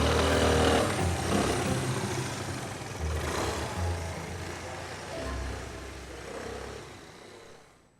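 A motorcycle engine runs outside, a broad rumbling roar that swells and fades over several seconds before dying away at the end.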